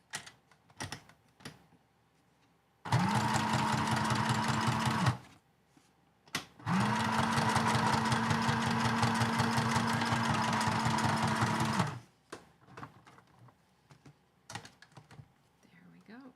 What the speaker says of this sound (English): And maybe a little bit of a straight stitch.